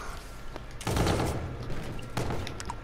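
In Call of Duty, gunfire comes in two loud bursts, a long one and then a shorter one, sharp and close, with no voices.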